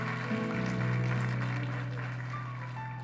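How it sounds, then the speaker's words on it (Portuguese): Church congregation clapping during a celebration service, a steady wash of applause over sustained tonal music with organ-like held notes, moderately quiet and continuous. "Aplauda o Senhor"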